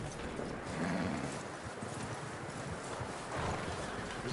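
Horse hooves clip-clopping in Red Dead Redemption 2, a steady close trot of hoof falls over a broad bed of game ambience, with no one talking over it.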